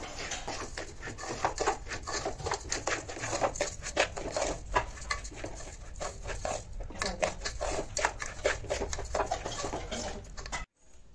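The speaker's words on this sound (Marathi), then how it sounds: "तांदूळ भाजून घ्यायचंय चांगला." Rice roasting in ghee in a pan gives off a dense, steady crackle and patter of grains shifting and sizzling, with scattered scraping from stirring. The sound stays close and continuous until it cuts off abruptly at the end.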